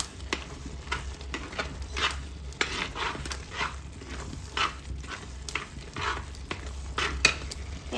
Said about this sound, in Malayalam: ഇനി ഇതെല്ലാം കൂടി നല്ലപോലെ മിക്സ് ചെയ്ത് കൊടുക്കാം.